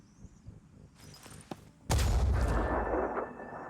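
Gunfire from a heavy weapon and a pistol in the video game Phoenix Point: a few faint, sharp shots, then a sudden loud booming blast that rolls into a long, sustained roar of fire and rumble.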